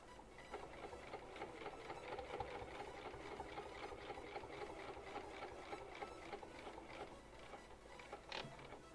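Sewing machine stitching a travel bag at a slow, steady pace, giving a continuous even mechanical whirr with a rapid needle rhythm and a brief bump near the end.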